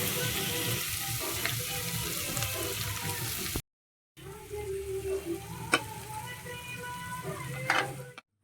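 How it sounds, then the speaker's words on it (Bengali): Carrot frying in ghee for gajar halwa, a dense continuous sizzle that cuts out briefly and resumes with sharp stirring scrapes and clicks near the pan. "গাজরটা ঘিয়ের মধ্যে দিয়ে দেওয়া হবে।"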